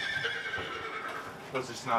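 A horse whinnies loudly and close, a wavering high neigh filling the clip, with a second sharper burst near the end and light hoof-like knocks underneath.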